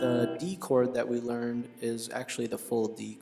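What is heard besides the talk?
None of the usual background noises is heard.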